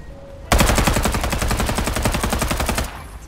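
Rapid automatic gunfire in the battle royale game Farlight 84: a loud, steady burst of closely spaced shots that starts abruptly and runs for over two seconds, then stops. No talking.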